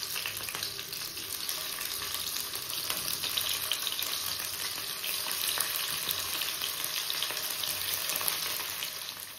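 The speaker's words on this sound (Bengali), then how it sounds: "ফার্স্টে মাছগুলোকে ভেজে নেব" Prawns frying in oil, a loud, dense, continuous hiss and crackle close up that swells slightly midway and holds steady, no voices.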